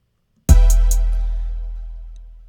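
Polysynth all-purpose stack preset struck once as a loud, rich chord that rings out and slowly decays after a moment of silence.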